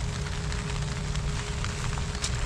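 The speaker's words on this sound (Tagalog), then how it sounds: "Ayan, ganyan lang yung ulan." Light drizzle falls over a farm field planted with bitter gourd, a steady soft patter filling the background with no talk.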